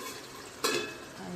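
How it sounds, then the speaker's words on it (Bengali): Magur fish frying in spitting oil in a covered pan, a low steady sizzle broken by one sharp burst of crackle as the lid shifts, fairly close. "মাগুর মাছগুলো তেলে ছেড়ে দিয়েছি।"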